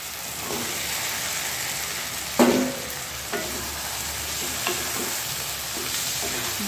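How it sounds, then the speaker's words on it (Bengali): Chicken goes into a pan of well-cooked masala for a green hariyali curry, and the pan settles into a loud, steady sizzle of frying. A sharp clatter as the pieces drop is followed by a few faint stirring knocks. "এবার আমি এটার মধ্যে চিকেনটা দিয়ে দিচ্ছি।"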